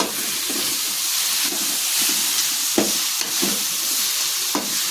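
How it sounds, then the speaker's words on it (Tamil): Tomatoes fry in a pan for semiya noodles with a steady close sizzle, punctuated by periodic scraping stirs of a spoon. "நம்ம வந்து தக்காளியை போட்டு நல்லா வந்து கலரி விட்டுக்கலாம்"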